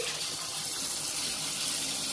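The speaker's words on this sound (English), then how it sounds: "Let me just cut the shower on for you." Shower water runs steadily in a truck-stop or rental bathroom, a continuous broadband hiss and spray heard close and fairly loud with no talking.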